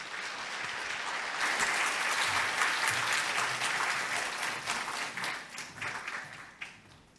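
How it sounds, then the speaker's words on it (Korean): A church congregation in LA applauds to welcome the pastor to the pulpit, a full steady wash of clapping that thins out and breaks into scattered last claps near the end. "목사님 오실 때 박수로 환영하겠습니다"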